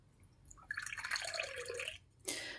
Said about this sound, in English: I'm going to pour a cup of tea just to get the energy flowing.